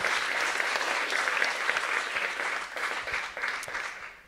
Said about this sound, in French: On vous applaudit, merci beaucoup.